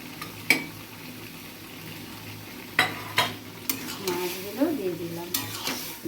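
Small fried puti fish are tipped into gourd curry in a pan, with a low simmering sizzle broken by several sharp utensil clacks and scraping stirs against the metal.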